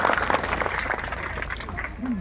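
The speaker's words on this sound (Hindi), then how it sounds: "इसके लिए एक बार जोरदार तालियां बता दीजिए" Applause from an audience at a village public meeting addressed by a member of parliament, a continuous dense patter of clapping carrying on steadily under faint voices before tapering toward the end.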